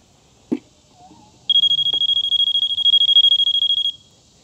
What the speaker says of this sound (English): when we go to install the unit into our pool, the alarm will sound